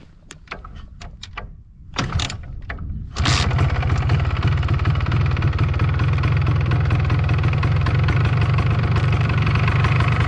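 An MZ ETZ 250 motorcycle engine runs at a loud, steady buzz while riding past fields. A few faint clicks and rustles come first, then the engine drone comes in suddenly and holds close and constant.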